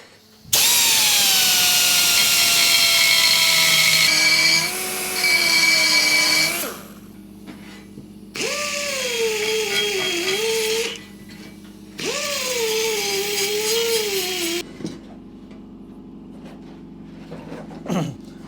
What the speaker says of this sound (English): Just get a dab with the die grinder now.